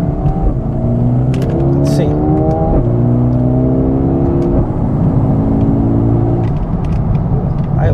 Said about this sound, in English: I like that little bit of that crackle that this exhaust makes